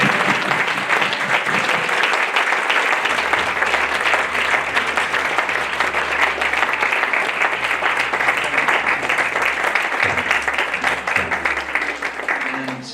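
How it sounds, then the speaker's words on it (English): Sustained audience applause fills a hall after drama group performances at a devotional gathering, a dense steady roar of many hands clapping for over ten seconds, loud and even. "I would suggest an applause for all 3 groups."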